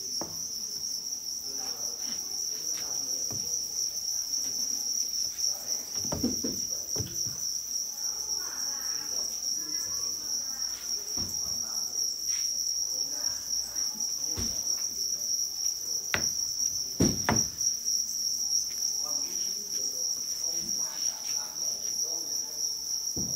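Thai crickets in a ventilated, mesh-lidded breeding box chirp in a steady, continuous high-pitched trill throughout, with scattered soft rustles and clicks from the insects moving about.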